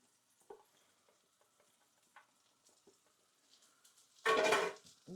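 Chopped onion goes into a hot pan for a jerk burger gravy: faint clinks and stirring sounds, then a sudden burst of loud sizzling as it hits the pan.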